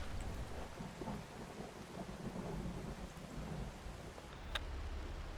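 A low, continuous rumble of thunder rolls beneath steady rain in the Outbrk storm chasing game, distant and even-toned, with a single sharp crack near the end.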